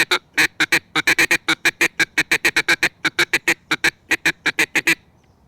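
A duck call imitates an Australian black duck feed call: a rapid run of short, clipped quacks, about thirty in steady rhythm, loud and close with no other sound.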